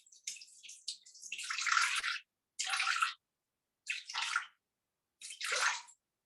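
Water poured into a bowl for bread dough arrives in four separate splashing pours, the first long and the rest shorter, each broken by short silences, close and loud with no talk.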